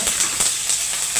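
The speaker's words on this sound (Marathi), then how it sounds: "असं तेल टाकून आपण मिरच्या भाजून घ्यायच्यात पहिले." Green chillies roasting in hot oil in a pan over a low gas flame, a steady close hiss with faint sizzling pulses and no talking.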